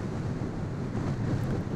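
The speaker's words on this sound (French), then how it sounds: "Beaucoup de vent et beaucoup de sable pour cette deuxième étape." Strong desert wind buffets the microphone on a dunes stage of the 2015 Libya Rally, a steady, loud low roar of gusting air with no voices.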